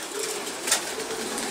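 Breeding pigeons, all females, cooing softly in the second room of a breeding loft, a low steady murmur with a brief louder burst midway.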